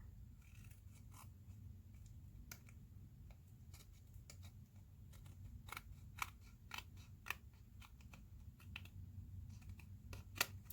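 Sticky scissors snip through developed photo prints in a quiet room, giving a steady run of sharp, close clicks and crisp cuts at an uneven rhythm, with no talk.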